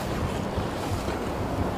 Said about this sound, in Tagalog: Yan yung singaw ng lupa. Kala mo lumalabas siya, sumisingaw siya.